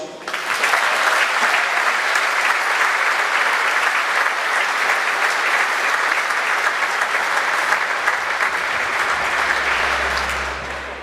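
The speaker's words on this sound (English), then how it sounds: "I don't know how to follow that round of applause for a legend" Sustained round of applause from a large dinner audience at a tribute dinner in a Dundee concert hall, loud and dense, swelling in at the start and tailing off near the end, with no talking over it.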